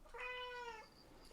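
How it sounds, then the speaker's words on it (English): A pet cat gives a single drawn-out meow close to the microphone, rising and then trailing off over about a second, with only faint room tone behind it and no talking. "This is my cat who's here."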